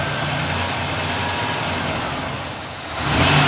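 A six-cylinder Ford Ranger engine, suffering a loss of power, runs steadily in a workshop, and its rpm is raised and then lowered. The near, continuous engine drone dips slightly before rising again at the end, with no talking.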